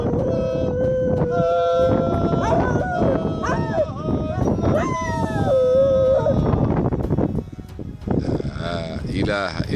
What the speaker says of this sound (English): with those wolf-like howls, even though it's a pet, it's a wild one for butchering the lyrics